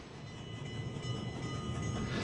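Locomotive 4449 passing by, heard as a quiet, continuous rail rumble and rolling clatter that swells slightly toward the end.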